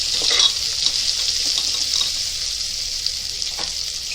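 Onions sizzling in hot oil with dried curry leaves for palak dal, a bright, steady frying hiss with a few faint clicks, close, no talking.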